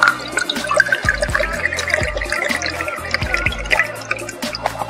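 Mamajuana liquor poured into a glass for a mojito, close trickling and dripping splashes with irregular liquid drops over a few seconds, no talking.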